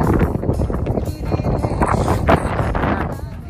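Strong wind buffets the microphone throughout, loud and continuous, at the hilltop historical site of Dombari Buru in Khunti, Jharkhand.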